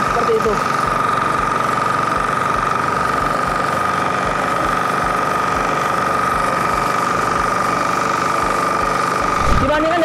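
A cultivator engine runs steadily while plowing soil, a continuous mechanical drone with a strong sustained tone, close and loud throughout, with a brief change near the end.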